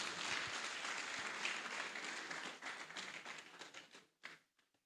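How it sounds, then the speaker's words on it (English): Applause from an audience at a health weekend event, a dense burst of many hands clapping that thins out into scattered claps and stops, fairly faint and distant, no voices over it. "Can we give him a round of applause?"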